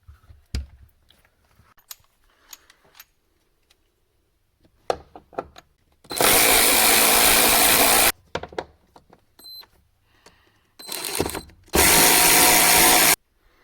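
A power tool with a T40 Torx bit runs in two loud bursts of about two seconds each, undoing the bench seat bolts under a car's rear floor, with quieter clicks and handling noises around them.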